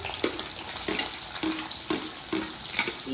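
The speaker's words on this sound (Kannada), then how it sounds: "ಈಗ ಎಣ್ಣೆ ಕಾದಿದೆ ನಾನು ಅದಕ್ಕೆ ಡೈರೆಕ್ಟಾಗಿ ಈರುಳ್ಳಿ ಹಾಕೊಳ್ತೀನಿ" Onions fry in hot oil for a green chicken sukha, a continuous close crackling sizzle with several scraping stirs at a steady pace, and no talk.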